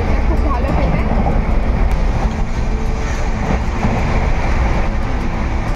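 Passenger train on the Kolkata to Puri route, heard from inside the carriage as a loud, steady rumble and rattle of wheels and coach, with a voice talking over it.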